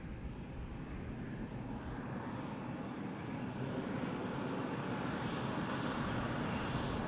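A plane arrives at Tucson International Airport, its engine roar loud and steady throughout, a broad continuous rumble that swells slightly toward the end.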